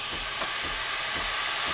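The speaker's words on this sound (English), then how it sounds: "once you start to hear the thumping sound, that means it's pretty much ready." A Breville Barista Express espresso machine heats its group head, giving a constant loud hiss of steam with faint, regular soft thumps underneath, close up and with no voices.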